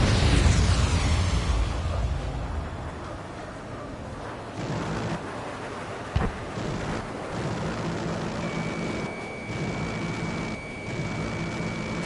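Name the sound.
missile explosion in the video game Ace Combat 7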